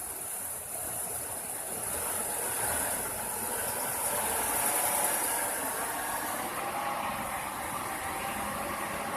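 A Buick Century engine running with a steady, even hiss and rumble while coasting and braking to a stop, constant and fairly quiet with no clear knocks or voices.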